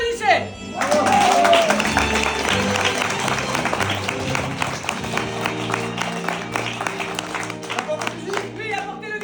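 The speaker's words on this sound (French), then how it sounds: "Applaudissez." Audience clapping at a stage performance: a burst of crisp, rapid claps that swells early and then carries on under voices talking, fairly loud and near.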